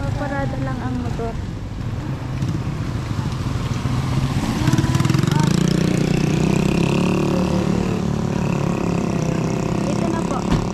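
A parked motorcycle engine idling at a house, a steady low rumble with occasional rises in pitch, heard close under people talking.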